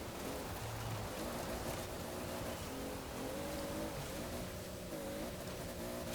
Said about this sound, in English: we are continually bouncing off the rev limiter because we're struggling to put the power down